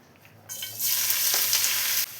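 Sliced onions hit hot coconut oil in a pan and burst into a loud, bright sizzle that holds steady, then drops a little near the end after a quieter start.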